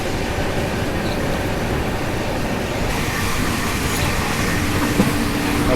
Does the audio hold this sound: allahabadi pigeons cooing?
no